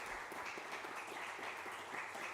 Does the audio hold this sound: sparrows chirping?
no